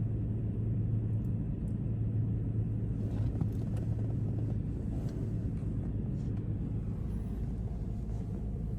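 A car engine idles outdoors to warm up on a cold, rainy day, giving a steady, continuous low rumble with a faint hum and no pauses throughout.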